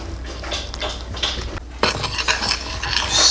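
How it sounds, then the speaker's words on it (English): A spoon stirring protein powder into a little milk in a bowl, with close scraping and clinking against the dish, repeated in a steady rhythm over a low background hum. "Stir it all up."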